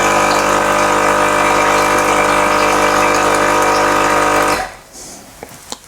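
A Sage Barista Express espresso machine pumps hot water through its system during a descaling cycle, a loud steady mechanical hum with rushing water that runs continuously for several seconds, then cuts off abruptly, leaving a few faint drips and clicks.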